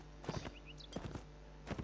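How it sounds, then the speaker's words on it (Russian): Horse hooves clip-clop in a Lord of the Rings strategy game, The Last Days of the Third Age, a few short bursts of quick steps spread across the stretch, moderately faint, with no talk over them. "Слишком быстрая лошадка."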